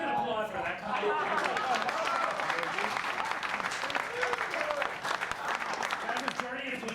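Steady audience applause filling the whole stretch, dense and continuous, with voices mixed in throughout.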